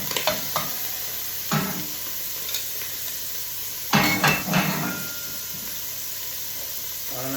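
Bacon lardons fry in a stock pot where beef was cooking, giving a steady hissing sizzle broken by several sharp metallic scrapes and taps of stirring, loudest around the middle.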